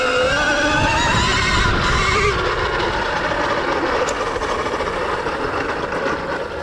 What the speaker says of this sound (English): what you'll find with these electric motors is they actually build RPM,